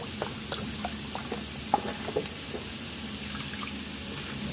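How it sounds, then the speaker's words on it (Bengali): Rice and lentils being rinsed in water for a vegetable khichuri: soft, steady splashing and sloshing with a few small clinks, close and fairly quiet, no voices. "চাল ডাল ভালো করে জলে ধুয়ে নেব।"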